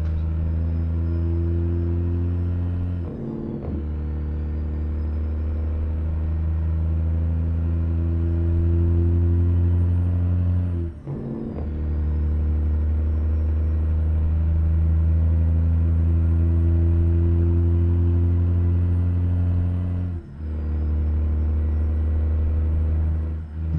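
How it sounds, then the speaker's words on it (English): A truck engine drones steadily in the cab while shifting gears with the jake brake on, its rumbling pitch dipping and resetting at three brief gear changes. "Shifting with the jake brake on."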